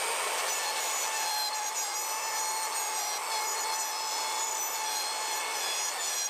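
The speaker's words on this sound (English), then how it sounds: "I'm going to rest my router on the side, turn my router on, and drive right down in." A router fitted with a 1/4-inch bit plunges into a pumpkin to carve a jack-o'-lantern face, giving a steady high-pitched whine and a grinding hiss that stay loud and constant throughout.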